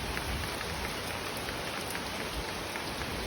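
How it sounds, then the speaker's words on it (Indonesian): Steady rain pours down in a forest, a dense even hiss of drops with no pauses, close and fairly loud throughout. "Hujan masih"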